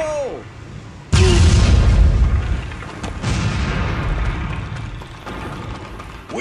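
A grenade blast in a D-Day war video game, a sudden loud boom that rumbles on for several seconds amid battle noise, followed by further heavy thuds and rattling mechanisms.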